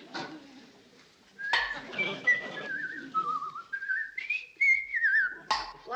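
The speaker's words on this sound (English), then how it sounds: "1 whistling tea kettle." A whistling tea kettle in a sitcom kitchen lets out a shrill, wavering whistle that rises and bends for several seconds, mixed with voices and kitchen clatter.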